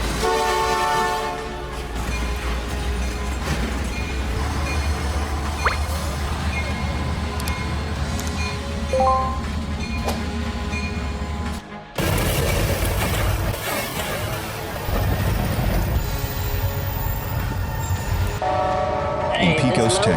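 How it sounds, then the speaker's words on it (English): A train horn blares over heavy rumbling rail noise, then a sudden break and a loud crashing impact as the train hits a semi-truck at a railroad crossing, followed by continued grinding and clattering with a voice. "A semi-truck collided with a train at a railroad crossing"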